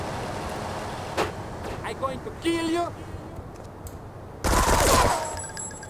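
A short burst of GTA III gunfire crackles in the final seconds, preceded by scattered clicks and a brief voice, over a steady low background hum.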